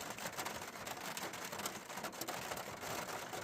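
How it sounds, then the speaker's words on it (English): Steady rain falls throughout, a dense, even hiss of drops with no voices. "It's raining."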